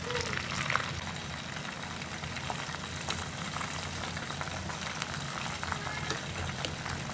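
Broasted chicken pieces fry in hot oil with a steady, soft bubbling sizzle, a continuous low crackle that holds even and fairly faint throughout with no talking.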